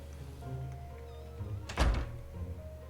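A door shuts with a single solid thump partway through, set against a low steady background hum in a TV drama scene.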